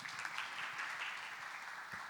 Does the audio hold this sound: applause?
yes